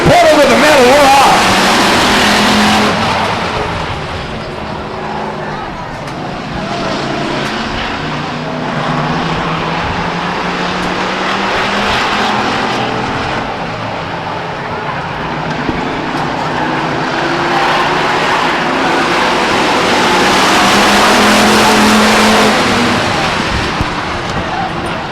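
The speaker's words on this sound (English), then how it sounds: "Car rockets out front." Race cars roar off the start at Stockton 99 Speedway, a loud, sustained engine drone that swells and fades as the pack accelerates, with a voice talking over it.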